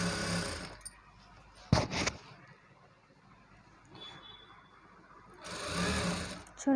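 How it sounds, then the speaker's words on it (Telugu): A sewing machine stitches lehenga fabric in bursts, running at the start and again near the end with a short burst mid-clip, quiet pauses between. "చూడండి నేనైతే దీన్ని ఇలా స్టిచ్చింగ్ చేసుకుంటూ వచ్చేస్తున్నాను."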